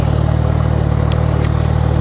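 Ride-on lawn mower engine running steadily at close range, a constant droning hum with strong low tones and no pauses.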